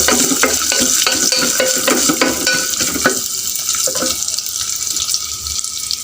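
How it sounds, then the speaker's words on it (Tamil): Grated coconut frying in ghee for a Kerala-style appam, stirred in the pan with loud scraping and clinking at first, then settling into a softer steady sizzle. "தேங்காய் நெய்லேயே நல்லா ஃப்ரை பண்ணி எடுத்துக்கலாம்"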